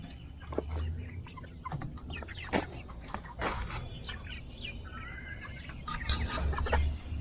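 Backyard chickens cluck and chatter close by, with scattered short calls and a few louder squawks over soft rustling, and no talk.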